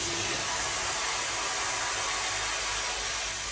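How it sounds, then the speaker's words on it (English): A pressure washer runs as a steady, loud, broadband spray hiss with a low motor rumble underneath, continuous and without talk, used to reclaim a screen. "the pressure washer is gonna make some noise once I start using it"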